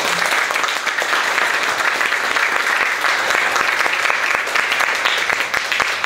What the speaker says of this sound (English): Shall we give a round of applause to all of them?